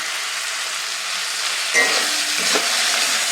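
Spinach being stirred and fried in a pan gives a steady sizzle throughout, with a few scraping stirs of the utensil toward the end; no talking.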